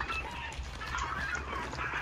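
Farm birds in the game Hunt: Showdown honk and squawk, goose-like calls repeating irregularly over a low ambient background.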